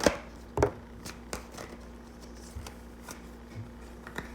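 Tarot cards being shuffled in short riffling bursts, with a few crisp slaps and flicks spaced through a quiet room.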